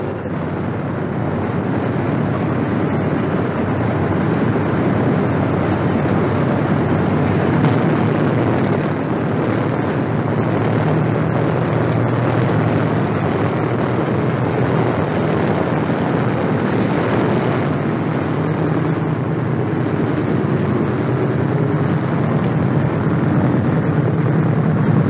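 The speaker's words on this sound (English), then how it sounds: "We're going up to see how this airplane reacts." Republic P-47 Thunderbolt fighter in flight, a steady heavy piston-engine drone with rushing wind noise, loud and unbroken from start to finish.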